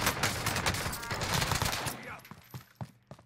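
Rapid automatic gunfire from a MAC-10 submachine gun in the video game Warzone (Cold War), dense loud bursts for about two seconds, then a few sparse single shots trailing off.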